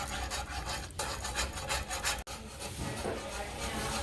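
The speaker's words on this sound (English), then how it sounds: "So that there is 1 cup sour cream. Let's start stirring this in here." Sour cream is stirred into a Swedish-style beef stroganoff sauce in a pan, giving continuous close scraping and rubbing strokes with a brief break partway through, alone and without talk.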